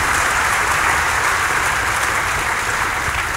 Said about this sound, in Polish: No nie wiem, za co te brawa.